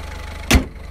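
A turbocharged Peugeot 207 engine hums low and steady, broken by one short, loud whoosh midway through the brief moment.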